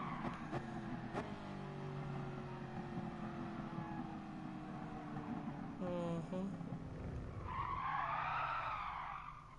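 A car drifts in a racing video game, tires skidding in long sliding squeals over steady engine drone, with a sharp high screech near the end; fairly quiet overall.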